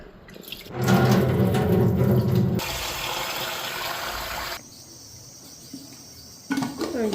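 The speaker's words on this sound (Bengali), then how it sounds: "এদিকে চালটাও ধুয়ে নিই।" Rice is washed with running water at a kitchen sink: a loud rush of tap water and sloshing for a couple of seconds, then a lighter, steady trickle, with a brief clatter near the end.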